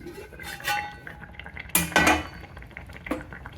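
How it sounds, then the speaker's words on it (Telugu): A metal lid set onto a pot of fish curry simmering on a stove gives a couple of sharp clanks among softer knocks of utensils, near and alone. "ఇప్పుడు స్టవ్ సిమ్ చేసుకొని మూత వేసుకోండి."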